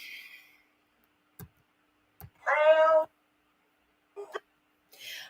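A cat gives one clear, close meow, set among a few sparse clicks and taps in an otherwise quiet room.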